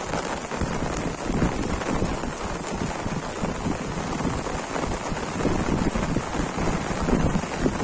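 Heavy rain pours steadily over a farm, a dense unbroken hiss of drops on surfaces with a low rumble beneath, loud and close throughout with no voices.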